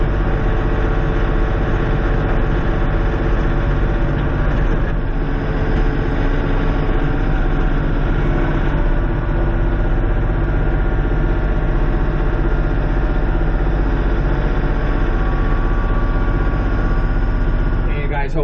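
A Kioti 3510SE compact tractor's diesel engine runs steadily around 1900 to 2000 RPM, a loud, even low-pitched drone with strong harmonics and vibration; someone talks intermittently over it.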